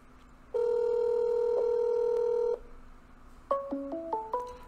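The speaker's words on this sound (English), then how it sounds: "Google Voice will try to connect you." A Google Voice call goes out: a loud, steady two-second ringing tone is followed after a pause by a quick descending and rising run of short electronic beeps, all clear and close with no talking.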